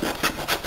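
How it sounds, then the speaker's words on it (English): Rasp filing down raised wood slivers on an instrument body, a few quick, close scraping strokes in a short rhythmic burst, no voices. "I'm going to grind those flat with my rasp here"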